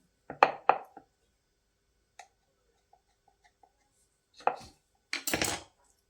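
A knife cuts rolled shankarpali dough into small pieces on a board, giving sharp close taps in quick clusters, then a few faint isolated ticks and a final brisk run of cuts.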